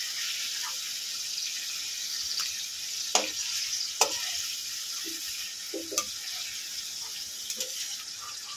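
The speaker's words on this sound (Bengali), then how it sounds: "এবারে সয়াবিনটা ভেজে নেব।" Soybean chunks frying in mustard oil give a steady bright sizzle, broken by a few sharp clinks and scrapes of stirring.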